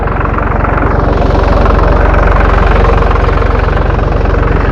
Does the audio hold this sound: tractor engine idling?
yes